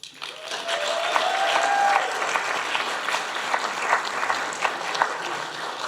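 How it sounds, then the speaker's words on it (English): Audience at a police department civilian leadership graduation applauding and cheering for a graduate, steady crowd clapping with scattered whoops, moderately close and sustained throughout. "Anthony comes with his own cheering section."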